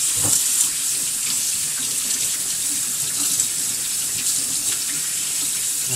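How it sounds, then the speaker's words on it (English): Tap water runs steadily into a sink while pickerel fillets are rinsed, a continuous close hiss and splash with no talking. "And wash the fillets really quick."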